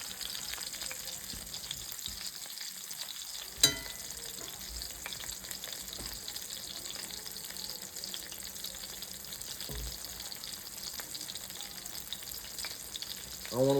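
Fillets of a 3 lb white perch frying in a pan, a soft, continuous sizzle and crackle at moderate level, with one sharp tap early on and a brief rise at the very end.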